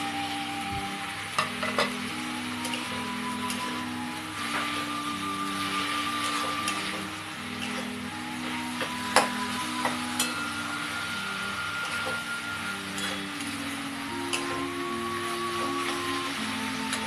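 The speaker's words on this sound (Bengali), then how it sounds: "এবার আঁচটা বাড়িয়ে রেখে নাড়াচাড়া করব" Rohu fish heads with cumin powder stirred over high heat in a pan, a steady close sizzle and frying hiss running throughout, with scattered scraping clicks of the spatula against the pan.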